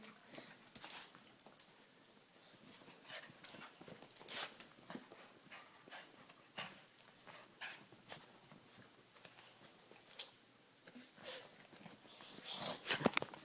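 A dog pants and whimpers faintly indoors, with soft scattered shuffles and movement across the stretch, quiet and fairly close, no clear talk.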